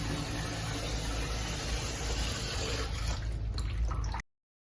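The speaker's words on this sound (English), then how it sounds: "the stop cord should be closed to stop the flow of water into the tank." Water flows into a toilet tank with a steady hissing rush that stops abruptly near the end, leaving silence.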